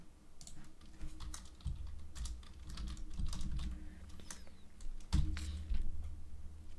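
Typing on a computer keyboard while setting up a session password variable, a steady run of quick, light key clicks at close range with a few heavier taps, no one speaking.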